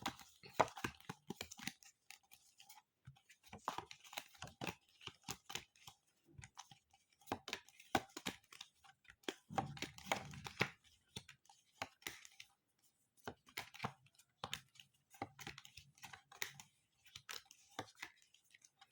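Tarot cards being drawn and handled, giving close, quiet crinkly flicks, slides and taps in irregular bursts with brief pauses, no talking.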